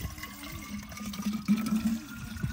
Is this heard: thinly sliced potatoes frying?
no